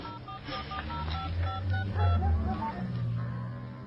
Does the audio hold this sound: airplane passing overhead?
no